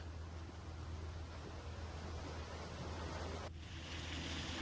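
Dense, steady rush of heavy monsoon rain in Vadodara, Gujarat, with a constant low rumble underneath, unbroken throughout and with no voices.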